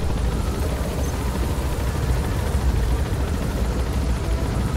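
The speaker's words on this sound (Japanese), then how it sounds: "毎回いいよ、このヘリコプターで来るところ" A helicopter arriving in the video game Metal Gear Solid V, a steady loud low rumble of rotor and engine noise filling the clip continuously, with no speech.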